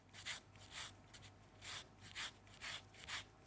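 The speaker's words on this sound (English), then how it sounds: "I'll finally grate that orange zest into the bowl" An orange is grated for zest into a bowl, giving about eight soft rasping strokes in an uneven rhythm, quiet and close with no voices.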